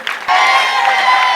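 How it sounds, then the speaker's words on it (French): A crowd cheers and applauds the event organisers, a loud sustained roar of voices and claps after a short quieter lead-in. "qu'on remercie et qu'on applaudisse tous les encadreurs"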